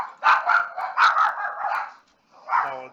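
A dog barks in a rapid run of close, loud yips and barks with a short growly whine, then pauses briefly before one last bark rings out.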